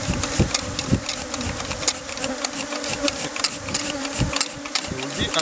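Honey bees buzzing densely around a hive during bee venom extraction, a loud, continuous droning swarm with individual bees whizzing close by, occasional sharp ticks and bumps underneath.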